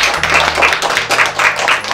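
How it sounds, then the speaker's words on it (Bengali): Children clap together in a short round of applause, a dense, close patter of hand claps lasting about two seconds. "কাতুকুতুর জন্য একটা হাততালি দেওয়া হোক"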